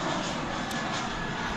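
Steady, broad roar from a Boeing 787 Dreamliner jet airliner, American Flight 132, as it taxis at DFW Airport, the engine noise constant and fairly loud throughout with no voices.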